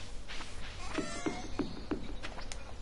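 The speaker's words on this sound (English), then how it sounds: "Okay, I did pet the cat." A cat meowing as it is petted in Stardew Valley, four short, faint mews evenly spaced about a third of a second apart, with game sounds and no talk.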